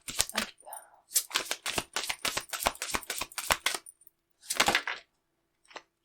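A deck of cards is shuffled for a card reading, with quick riffling and slapping bursts in short clusters and a couple of soft taps after a pause, close and fairly quiet.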